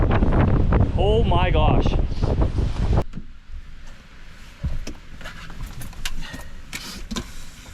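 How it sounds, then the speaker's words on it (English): Strong wind blows across a frozen lake on an ice-fishing outing, a loud buffeting roar for a few seconds that eases into gusty, rustling bursts, with one short exclamation from a person. "This is windy."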